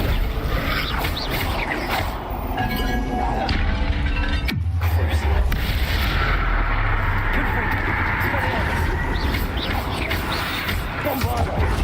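Bombarda spell blasts in Hogwarts Legacy land as loud cracking impacts amid dense combat noise, with one heavy thud standing out midway through the busy, continuous fight.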